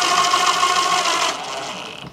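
A wood screw is driven into an electrical box for a loose outlet, making a steady, close whirring drone for over a second before it tapers into a quieter fading rattle. No talking is heard.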